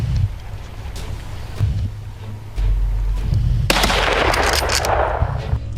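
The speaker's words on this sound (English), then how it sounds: "Gunshots rang out continuously." Continuous gunfire during a wild boar hunt, with dense overlapping bursts and sharp cracks, growing louder and heavier partway through, with an outdoor rumble underneath.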